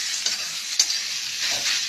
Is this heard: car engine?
no